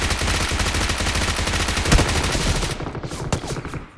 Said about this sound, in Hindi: पीछे से मुझे उसी बंदे के फायर आते हैं जिसको मैं ग्रेनेड कर रहा था